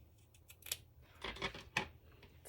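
Scissors snip through material at close range in a quiet room, a few soft scattered cuts followed by three sharper crisp snips over a couple of seconds.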